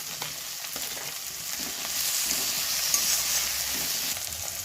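Tomatoes go into a pan of spicy small fish curry with onion and green chili, giving a steady hiss of frying oil close up that swells slightly partway through, with no talking.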